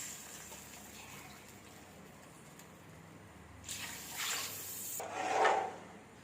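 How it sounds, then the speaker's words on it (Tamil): Faint kitchen background, then water pours in a few short gushes into a vessel, growing slightly louder with each pour; no voices. "அதே டம்ளரால் 3 டம்ளர் தண்ணி விட்டுக்கலாம்."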